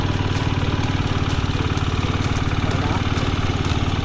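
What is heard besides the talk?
125cc motorcycle engine idling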